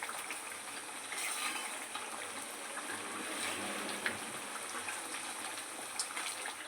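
Herbal hair oil with leaves boiling in a pan, a continuous close hiss of bubbling and sizzling with small pops and no talking.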